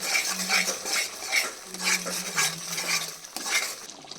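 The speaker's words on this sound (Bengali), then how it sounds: "আর এখানে আমি আর কি পনিরটা ভাজবো" Paneer cubes frying in a pan for shahi paneer, with close, repeated scraping and clinking of a utensil against the pan over a faint sizzle, no talking.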